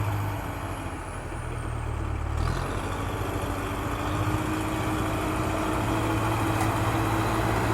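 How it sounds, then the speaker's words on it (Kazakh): A cartoon tractor's engine rumbles low and steady, idling with a slight shift in tone partway through, continuous and fairly close with no voices. "Бұл трактор."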